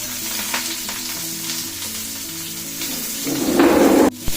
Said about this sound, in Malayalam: അതിനുശേഷം നമുക്കിത് സവാള ഇട്ട് കൊടുക്കാം കേട്ടോ